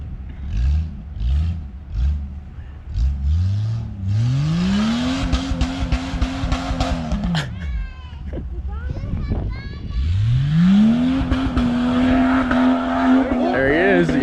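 Off-road vehicle engine revving hard in deep snow, rising repeatedly into sustained high-pitched bouncing on the rev limiter, loud and close, with two long pulls and shorter blips, while people talk over it.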